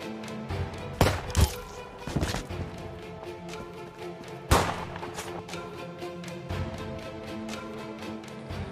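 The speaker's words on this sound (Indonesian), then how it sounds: "Ternyata pria itu adalah seorang FBI, sehingga baku tembak pun terjadi." Film gunfight with scattered gunshots: a few sharp, loud reports stand out over a rumbling, tense background, spaced irregularly with quieter stretches between them.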